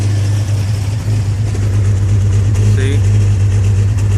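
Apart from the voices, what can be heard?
Jaguar XJ engine idling with a misfire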